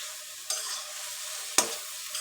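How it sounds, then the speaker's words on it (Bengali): Greens hit a pan with chili, onion, prawns and spices, a soft steady sizzle broken by two sharp stirring clatters, close and fairly quiet. "মরিচ, পেঁয়াজ, চিংড়ি মাছ মশলা দিয়ে কষিয়ে আমি শাকটা দিয়ে দিলাম।"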